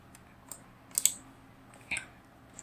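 Short bursts of typing on a computer keyboard, a few quick clicks spaced irregularly, close and fairly quiet with no talk.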